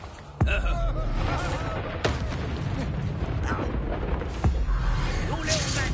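A Confringo blasting spell from Hogwarts Legacy bursts out in sharp, loud explosive cracks, three main impacts spaced a couple of seconds apart over a dense, crackling backdrop of combat noise.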